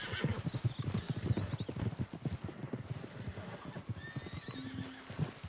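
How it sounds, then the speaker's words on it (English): In the video game Red Dead Redemption 2, rapid hoofbeats clip-clop steadily, with a horse whinnying partway through and a faint synthetic tone near the end. "What I thought was a bush was a horse."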